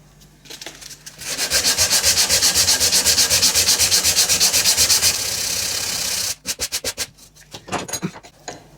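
A wood veneer on an Art Deco clock build is sanded in fast, loud rhythmic back-and-forth strokes that run steadily for several seconds, then break into shorter separate scrubbing passes, close by with no talking.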